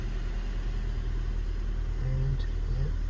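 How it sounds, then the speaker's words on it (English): A 1999 Rover 420i manual hatchback idles in a quiet, steady low rumble, heard close and continuous, with a faint tonal hum briefly rising near the end. "ticks over lovely, nice and quiet, beautiful quiet engine"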